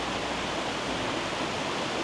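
A small stream trickles by an 18th-century water pumping site, heard as a steady, even wash of water noise with no breaks and no voices.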